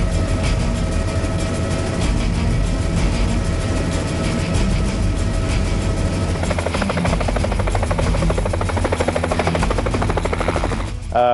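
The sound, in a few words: helicopter flying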